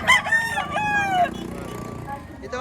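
A rooster crows once at a poultry market, a close, loud, drawn-out call with a falling end, followed by low background murmur.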